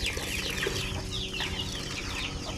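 Native chickens cluck busily at feeding time over feed that includes rice, with a dense, overlapping chorus of close clucks and squawks running the whole way through.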